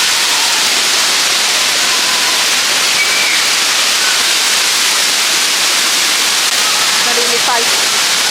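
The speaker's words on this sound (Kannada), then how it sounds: "ನೋಡಿ ಇಲ್ಲಿ ಫಾಲ್ಸ್." Jari Falls near Chikmagalur, a dense, constant roar of falling water heard close and loud, unbroken throughout.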